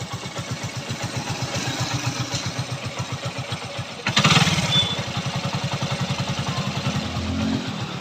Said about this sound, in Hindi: तो इंजन की जो साउंड है दोस्तों काफ़ी बेहतरीन आया है